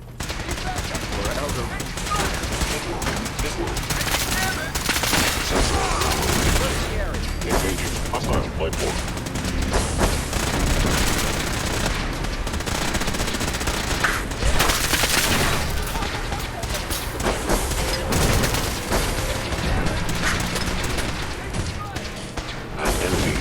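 Powerful weapon fire from Fallout 4 roars in a loud, continuous barrage of overlapping shots and booms. Speech can be heard under the gunfire.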